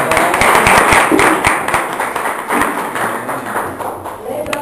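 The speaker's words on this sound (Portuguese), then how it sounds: "E palmas para nós, né?" An audience at a Brazilian community discussion circle breaks into dense, lively clapping that holds for several seconds, loud and close, with voices talking over the claps throughout.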